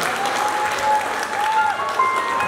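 A crowd applauds steadily at a wedding celebration, dense clapping filling the whole stretch with a few thin tonal whines drifting over it.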